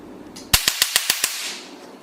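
A portable picosecond laser machine fires test shots, six sharp snapping pops in quick, even succession, close and crisp over a faint background hum.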